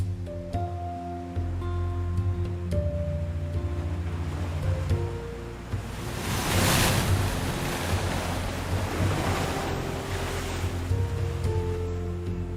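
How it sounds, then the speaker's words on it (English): Ocean waves crash with great force against rocks on the Guelmin coast, a steady roar of surf that swells into a louder, hissing break midway, with no voices. "the waves crush with enormous force against the rocks."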